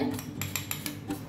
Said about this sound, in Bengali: এবার ডিমটাকে গুলে নিয়ে